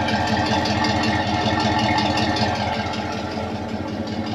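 A Chevrolet squarebody pickup truck with a Flowmaster exhaust idles close by with a steady, deep, rumbling burble and a slight rattle, with no talking.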